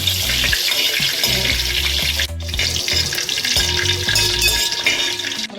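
Cumin seeds sizzle in hot oil for a Kerala-style prawn curry, a loud, steady crackling fry with low clatter underneath and a brief dip partway through.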